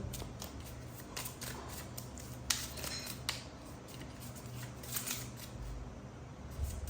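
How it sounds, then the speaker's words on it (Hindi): Playing cards shuffled by hand during a candle wax tarot-style reading, a soft, continuous riffling and rustling with a few brief clicks, close and quiet, with no talk. "Okay, let me shuffle."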